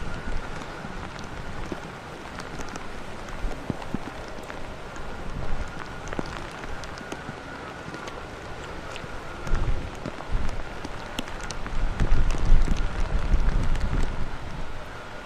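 Rain and gusting wind sweep across Manchester Airport, a steady wash of rainfall with scattered drops and buffeting wind noise that strengthens toward the end.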